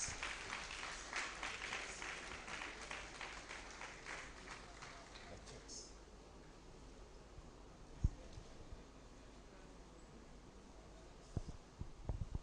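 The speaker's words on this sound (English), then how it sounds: "Let's give all of them a hand of applause." Applause breaks out for hackathon participants at a Ghana Statistical Service launch event, a dense clatter of clapping that is strongest in the first few seconds, then thins and fades, with a few isolated sharp sounds near the end.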